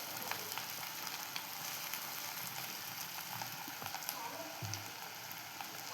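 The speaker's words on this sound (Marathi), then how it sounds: "कांदा फक्त आपण नरम करून घेणार आहोत" Chopped onion frying in a pan for a spinach bhaji, softening with a steady, close sizzle and crackle, with small spits and a brief stir-like knock near the end.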